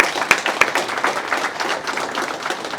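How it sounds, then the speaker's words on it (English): Audience applause at an Africa Day 2024 embassy event, for the Dean of the AU Heads of Missions: a dense, steady patter of many hands clapping, with a couple of sharper claps near the start. "A round of applause, please."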